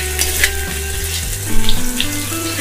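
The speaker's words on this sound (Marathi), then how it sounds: "मस्तपैकी हाय फ्लेमवरती हा कांदा आपल्याला तेलामध्ये परतून घ्यायचा" Chopped onion frying in oil over a high gas flame, giving a loud continuous sizzle close by, with a low background hum and occasional clinks from the pan.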